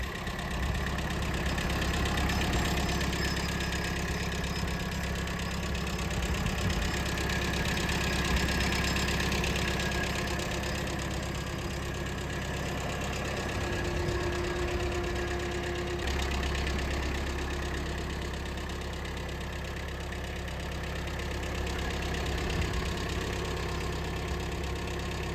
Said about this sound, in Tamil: இந்த டிராக்டர் மேசி ஃபர்கூசனில் 5118ங்க, 2023 மாடல்.